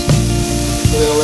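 Monterey Jack cheese frying directly on a hot non-stick griddle, a loud close sizzle and hiss with a few crackling pops over a steady hum, no voices.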